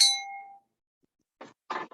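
A bright notification bell ding rings out once, loud and close, with a shimmering tone that fades over about half a second, followed by silence and then two short bursts of voice.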